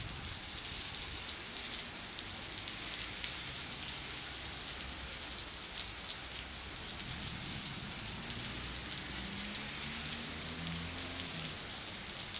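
Steady rain falling outdoors, a dense continuous hiss of drops pattering on surfaces at an even level throughout, with faint low rumbles underneath and no voices.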